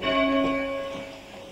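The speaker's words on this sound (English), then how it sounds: "This is quite a light bell." A light church bell at All Saints Parish Church, Wath-upon-Dearne, is rung by hand with a rope pull, giving one clear, ringing strike that hums and slowly fades.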